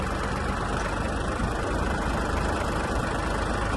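The engine of an Iseki Sial 193 Japanese mini tractor runs steadily at close range, a loud, even diesel rumble with no clear change for the hitch, and no talk.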